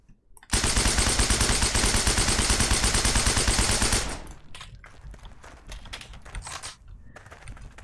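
A PPSh submachine gun fires a long rapid-fire burst of about three and a half seconds in Heroes & Generals, loud and near, followed by softer clicks and rustling.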